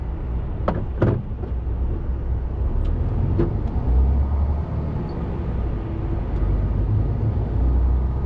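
A car drives along the road, giving a steady, loud rumble of engine and tyre noise from inside the cabin, with a few brief knocks and thumps early on and no talking.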